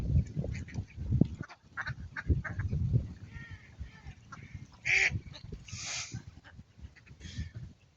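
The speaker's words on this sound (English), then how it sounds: "I appear to have attracted every duck within about a 5-mile radius" A crowd of ducks being fed outdoors, loud overlapping quacks and honking calls close by, with constant low chatter and flapping throughout and no one speaking.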